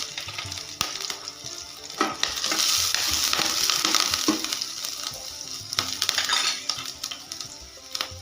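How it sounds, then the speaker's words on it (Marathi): Chopped green chili fries in a pan for vegetable soup, a close steady sizzle broken by repeated scraping and clinks of a spoon stirring against the metal. "एक हिरवी मिरची घेतलेली आहे कट करून ते पण ह्याच्यात फ्राय करून घेणार आहे"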